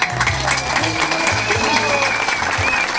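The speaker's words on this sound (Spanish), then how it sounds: "¡Fuerte las palmas!" Crowd applause at a municipal public event in Ica, Peru, a dense steady clapping sustained across the whole stretch, fairly loud and close with a low background hum and no clear talk over it.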